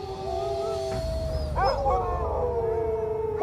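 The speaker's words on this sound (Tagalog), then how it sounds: "Umaalulong ang mga aso." Several dogs howl at night in long, sustained wails that overlap and swell, with a low rumble of background noise underneath and no talking.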